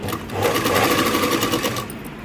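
A sewing machine runs in one fast continuous burst close by, stitching saree cloth for a blouse, then stops near the end.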